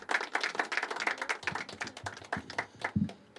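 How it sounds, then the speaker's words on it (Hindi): Audience at an afternoon poetry open mic clapping as a poet comes on stage, a small group's lively, uneven applause with distinct individual claps close by. "एक बार जोरदार तालियां सांझ के लिए।"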